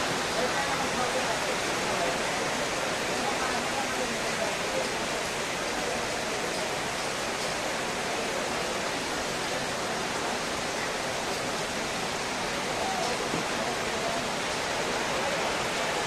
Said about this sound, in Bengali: দেখেন কি বৃষ্টি কি বৃষ্টি সেই বৃষ্টি হচ্ছে